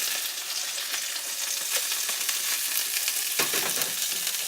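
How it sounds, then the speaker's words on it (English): Thin hamburger patties sizzling hard in a hot skillet, a loud steady crackling hiss with a brief scrape or shift of the pan near the end. "I've got my skillet turned up a little higher."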